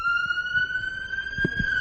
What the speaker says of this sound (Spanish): Que pase la ambulancia.